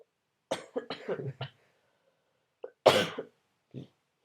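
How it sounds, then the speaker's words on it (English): A few short coughs sputter out, followed by one stronger, raspy cough and a small trailing hack, close and isolated in near silence. "You gonna keep fucking coughing?"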